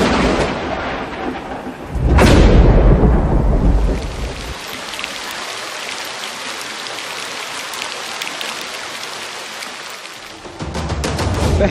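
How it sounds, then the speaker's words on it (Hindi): A loud thunderclap booms over steady heavy rain during a Delhi downpour, the roar of falling water continuing throughout and swelling again near the end. "दिल्ली एनसीआर में सुबह से लगातार हो रही बारिश ने पूरे शहर को पानी पानी कर दिया है।"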